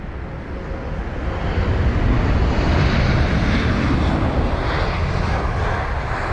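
A 14-year-old Airbus A320 arriving at London Heathrow from Milan gives a loud, steady broad jet roar that swells slightly and then eases, sounding close by, with no voices.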